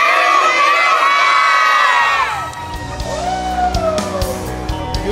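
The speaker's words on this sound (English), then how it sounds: "everybody scream Merry Christmas" A group of children screams "Merry Christmas" loudly and excitedly in unison, close by, then breaks into scattered shouts and cheering.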